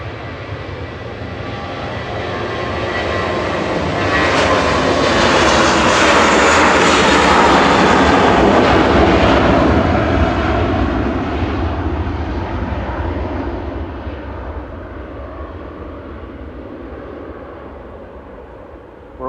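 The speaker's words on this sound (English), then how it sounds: "Flug 2501 over to Munich for Lufthansa A321 Classic." A Lufthansa Airbus A321 departs Manchester Airport for Munich, a loud jet roar that swells over several seconds, peaks and slowly fades as the aircraft passes, with no voices over it.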